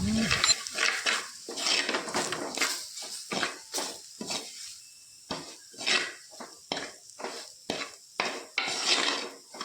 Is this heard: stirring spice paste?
yes